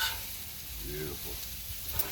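Chicken and pork fried rice sizzles on a Blackstone griddle as it is mixed, a faint, steady crackling hiss with a soft scrape or two, nearby and quiet.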